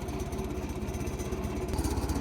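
Antique Komatsu-built 284 tractor diesel engine running, a steady close low knocking chug with an even rhythm and no talk over it.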